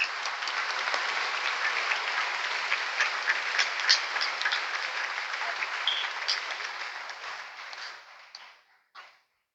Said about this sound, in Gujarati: તાળીઓની ગુંજ અટકવી ના જોઈએ.